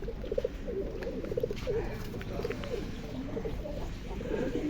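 Racing pigeons coo in a loft, soft repeated throaty calls, fairly close, over a continuous low background rumble with no talking.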